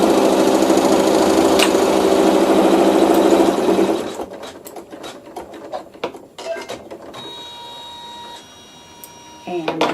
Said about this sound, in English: and I'm sewing a seam.